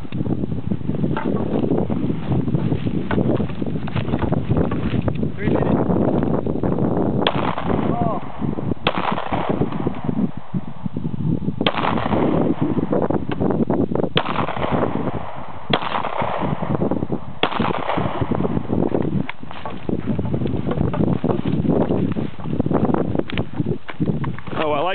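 Pistol fire at shooting practice, heard as sharp repeated shots in irregular bursts over a dense outdoor background with wind buffeting, while people talk intermittently.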